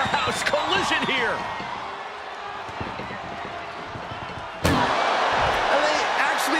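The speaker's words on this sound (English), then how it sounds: "Look at the struggle just to shut that first door." An ambulance door is slammed shut during a WWE 2K24 wrestling match. A sharp, loud bang lands near the end, with game commentary and other arena sounds running underneath.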